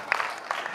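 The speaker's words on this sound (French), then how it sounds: "Applaudissez pour lui." A group applauding a player in a ball game, short bursts of scattered hand claps over about a second, with voices heard alongside.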